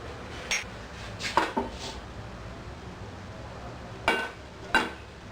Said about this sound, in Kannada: ನಾವು ಒಂದು ಪ್ಯಾನ್ ಇಟ್ಕೊಂಡು ಸ್ವಲ್ಪ ಲೈಟಾಗಿ ಫ್ರೈ ಮಾಡ್ಕೊಳ್ಳೋಣ.